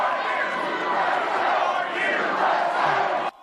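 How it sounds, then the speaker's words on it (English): A large crowd at a political victory rally for the Florida governor chants in unison, loud and sustained, with a steady rhythmic swell before cutting off abruptly. "At his victory rally, the crowd chanting 2 more years, signaling support of a 2024 run"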